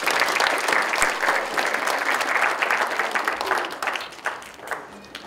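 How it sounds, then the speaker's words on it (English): An audience at a talk on mindfulness gives a dense round of applause, many hands clapping loudly and evenly before thinning out and fading near the end. "give yourself a big round of applause"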